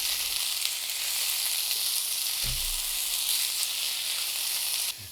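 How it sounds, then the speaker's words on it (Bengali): Coriander leaves fry in a pan for a small Bangladeshi bhorta, giving a steady, close sizzle and hiss that stays level throughout with no voices. "ধনিয়া পাতাগুলো আমি ভেজে নিয়েছি।"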